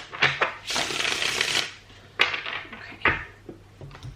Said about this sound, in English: Just give these one more shuffle.